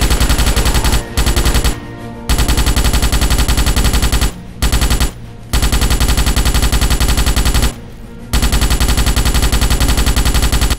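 Automatic fire from a Morita Mark II rifle in a Starship Troopers video game, loud continuous bursts of rapid gunshots broken by a few short pauses, close and dominant with no talk.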